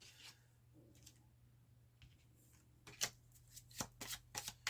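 Tarot cards are shuffled and handled at close range, with soft sliding rubs early on, then a run of crisp riffling bursts growing louder toward the end, against a faint background hum.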